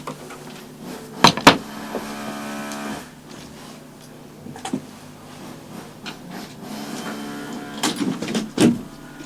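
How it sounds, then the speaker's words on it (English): A window slides and thumps shut with a few sharp knocks and scrapes, over a murky background of distant outdoor noise. "Let me close the window."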